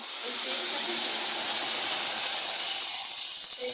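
Spice paste added to hot oil already tempered with nigella seeds on a high gas flame, giving a loud, continuous steamy hiss that fades slightly toward the end.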